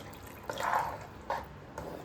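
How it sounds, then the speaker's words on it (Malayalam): Water splashes into a cooking pan in three short pours while making mint and curry leaf pickle, soft and close, with quiet gaps between them. "കുറച്ചുകൂടെ ഒഴിക്കുവാണ് വെള്ളം."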